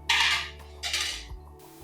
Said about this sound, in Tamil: கரண்டி வச்சு இந்த மாதிரி ஒரு கலந்து விட்டுக்கலாம்.